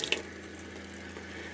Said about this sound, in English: You have to turn the water on. It runs normal.